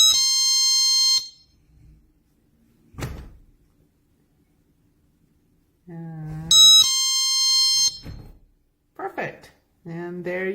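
A GE personal security window and door alarm sounds two loud, piercing electronic bursts of about a second each, with quiet gaps and a couple of brief voice fragments between and after them.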